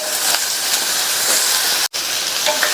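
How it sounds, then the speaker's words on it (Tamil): Cut eggplant pieces, drained of soaking water, sizzle steadily in hot oil in a pan, a continuous close hiss with no talking. "நம்ம தண்ணியில கட் பண்ணி போட்ட கத்திரிக்காயை தண்ணியை நல்லா வடிச்சிட்டு இதுல சேர்த்துடலாம்."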